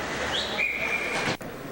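A referee's whistle stops play at a high school hockey game, a short steady tone blown once above rink noise.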